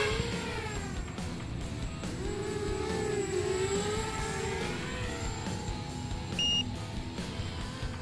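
An Eachine Racer 250 race drone on new props whines through the air, a continuous buzzing drone with shifting pitch as it manoeuvres, fairly distant and steady, with a brief transmitter beep near the end.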